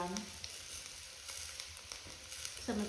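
Garlic, shallot and ginger stir-frying in a pan, a soft, steady sizzle with a few faint scraping clicks from a spatula and a louder burst of frying near the end.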